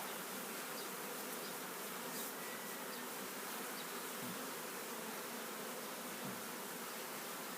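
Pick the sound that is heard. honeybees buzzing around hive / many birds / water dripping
honeybees buzzing around hive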